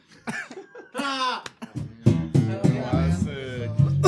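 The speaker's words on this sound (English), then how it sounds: "I am still coughing." Several people cough in close, harsh, repeated fits after a hit from a six-foot bong, with raspy throat sounds and wheezy, strained breaths between the bursts.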